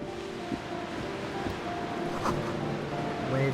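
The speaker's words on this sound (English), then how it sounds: "Waves crashing in the darkness." Waves crash in the darkness in the Disco Elysium video game, a steady low surf-like wash with wind and faint tonal hum beneath, continuous throughout without speech.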